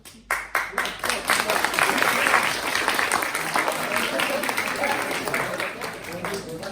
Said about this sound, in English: the good old American at a baseball game cheer, which is this